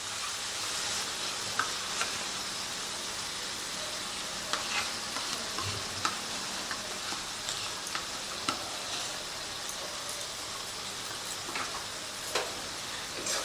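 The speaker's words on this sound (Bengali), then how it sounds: "এখন দইটা দিয়ে আরও মিনিট খানেকের মতো আমি মশলাটাকে কষিয়ে নেব।" Spiced masala with sour yogurt sizzles steadily in a pan while jackfruit curry is cooked, broken by frequent scraping clicks of a stirring spoon; continuous, close and moderately loud, with no talking.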